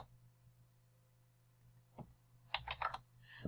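A short burst of typing on a computer keyboard, one isolated click followed by a quick cluster of several keystrokes, quiet and close over a low steady hum.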